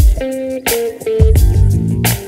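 Electric guitar through a wah pedal plugin on the Logic Pro pedalboard, a short phrase of picked notes and chords, close and fairly loud with no talking.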